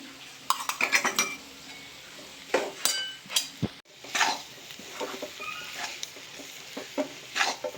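Grated coconut, jaggery and ghee stirred in a pan over a low flame for coconut jaggery barfi, with scattered scraping and clinking strokes of a spoon against the pan, close and moderately loud, with no talking.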